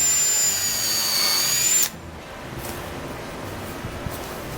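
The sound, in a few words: power drill driving screws into plywood stiffeners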